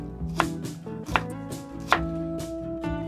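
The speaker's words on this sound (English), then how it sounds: "Cut the carrot into thin strips." Knife cutting a carrot into thin strips on a board, with a few crisp chops in a loose rhythm, close and clear, over a quiet background of faint tonal hum.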